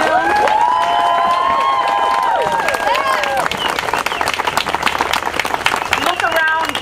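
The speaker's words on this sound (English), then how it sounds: "Let's have another round of applause to thank all of our speakers who are" A large outdoor crowd at a teachers' march claps and cheers for the speakers, with loud sustained clapping under excited shouts, whistles and voices, including high children's yells, all close and busy.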